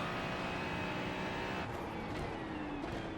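Ferrari 296 GT3 racing car in iRacing at Watkins Glen, a steady loud engine drone with tonal whine that shifts as the car brakes, alone without talk.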